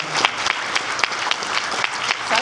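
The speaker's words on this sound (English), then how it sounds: "So I want to give her another round of applause." An audience at an evening caucus program event breaks into steady, dense applause, with sharp individual claps standing out against the continuous clapping throughout.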